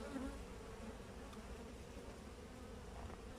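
Honey bees buzz steadily at an opened hive that holds brood and some honey, a dense, continuous hum close by that stays even throughout.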